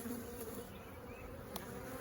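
Honeybees hum in a continuous, soft, steady buzz around an open hive being split just before swarming, with no voices.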